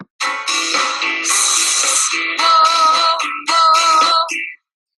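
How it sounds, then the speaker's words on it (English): A singer demonstrates a pulse vibrato exercise, sustained sung notes with deliberate rhythmic pitch pulses across several phrases, loud and close with no talking. "We begin vibrato work with the pulse vibrato"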